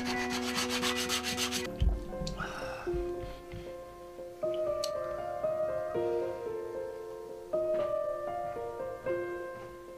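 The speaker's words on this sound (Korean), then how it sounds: "진주에서 찾은 나무를 다시 섬세하게 다듬는 명인" A master woodcarver finely smooths a piece of wood for a Buddha statue, making soft rubbing and scraping strokes at close range, with a sustained tonal hum and faint background sounds.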